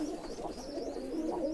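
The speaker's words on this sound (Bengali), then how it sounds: "এই হইলো আমার কবুতর ভাই" Giribaz pigeons at a hobby loft in Rajshahi coo in a steady, low, rolling murmur close by, with a thin high chirp drifting above, no talk.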